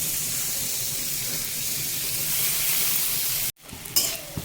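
Chopped tomato tipped onto ginger-garlic paste in a hot pan for pav bhaji, giving a loud, steady sizzle that runs unbroken, cuts out briefly, then returns with stirring scrapes.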